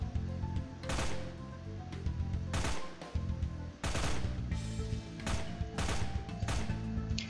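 Gunshots ring out in The Last of Waifus while the player holds off waves of enemies. About a dozen sharp, separate shots fire at an uneven pace, fairly close, over a steady tonal background hum.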